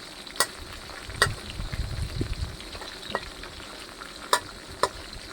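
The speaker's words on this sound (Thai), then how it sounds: "ถ้าเราทอด ไฟแรงทีเดียวนะครับผมไส้กรอกครับมันจะไหม้ก่อนสุกครับผมข้างในจะไม่สุก" Isan sausage frying in hot oil in a pan, a steady low sizzle and bubbling broken by a few sharp spatter pops, heard up close without talk.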